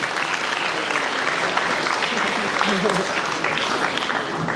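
Sustained applause from a crowd at a school annual sports day prize ceremony, an even wash of clapping lasting several seconds with a voice faintly beneath it.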